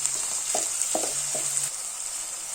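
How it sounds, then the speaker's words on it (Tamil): Tomatoes with salt sautéing in oil for a fish curry make a steady, bright sizzle throughout, with a few light scraping strokes of a stirring spoon near the start, and no talking. "இப்போ இதோட கொஞ்சம் உப்பு சேர்த்து வதக்கிக்கோங்க, சீக்கிரம் வதங்கிடும்."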